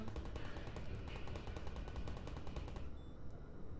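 Automated turrets in Half-Life: Alyx fire rapid, evenly spaced bursts of gunfire, loud and close, a steady rattling stream that cuts off near the end.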